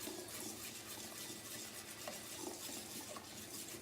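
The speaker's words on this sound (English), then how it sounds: "All into the mixing bowl. And then mix it all up with a spoon." A spoon stirs and mashes soft cheesecake ingredients in a mixing bowl, giving a continuous quiet scraping and squishing texture with faint clicks against the bowl, close by with no talk.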